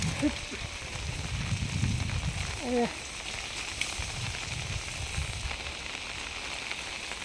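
Steady rain hisses across the whole stretch, with a voice speaking briefly near the start over the patter.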